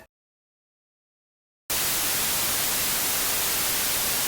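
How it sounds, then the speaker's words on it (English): A plain white noise test signal, loud and perfectly steady, kicks in abruptly after a stretch of total silence and hisses on evenly to the end. "That's plain white noise."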